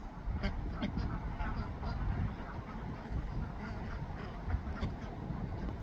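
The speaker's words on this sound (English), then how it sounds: "Little white duck." Ducks quack faintly among a backyard flock near a new coop, soft calls scattered over a steady outdoor wash of background noise, with a person talking now and then.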